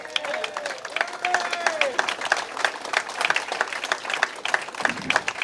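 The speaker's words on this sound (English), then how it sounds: "A round of applause." Studio audience applauding a guest's entrance, dense steady clapping from a crowd with a few whoops, while a host's voice talks over it.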